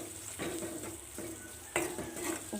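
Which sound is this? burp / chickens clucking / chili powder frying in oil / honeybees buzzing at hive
chili powder frying in oil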